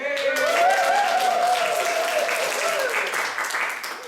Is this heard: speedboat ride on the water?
no